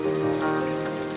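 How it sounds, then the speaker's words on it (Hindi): Rain falling on a cottage roof deep in a forest, a steady soft patter heard from indoors, fairly quiet and unbroken, with no talking. "कॉटेज में छत पर पानी गिरने की आवाज़ और भी तेज आ रही थी।"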